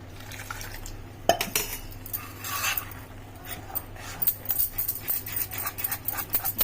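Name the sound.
mixing beetroot vadiyalu batter by hand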